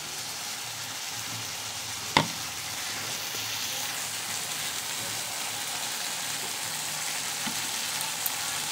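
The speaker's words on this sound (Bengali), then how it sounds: "এটা দিয়ে আমি এখন নাড়াচাড়া করছি।" A pan of spices, tomato and chilli paste fries with a steady hiss while being stirred, with one sharp utensil knock early on and faint scraping throughout.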